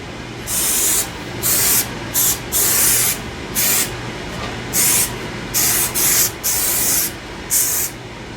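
Contact adhesive sprays in about a dozen short, loud hissing bursts of varying length across a Marshall 1960A speaker cabinet, close up with brief pauses between passes and no talk.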